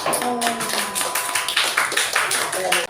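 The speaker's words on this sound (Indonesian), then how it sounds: "Oke, tepuk tangan." Students in a classroom discussion give a short round of clapping, quick and uneven taps close by, with a voice briefly over the start.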